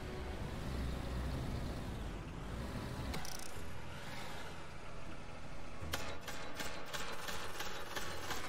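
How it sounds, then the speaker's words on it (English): An approaching tank in Silica, a steady engine rumble with clattering tracks and mechanical noise that swells slightly, with sharp clanks and a few impacts in the second half. "Well, they got a tank coming."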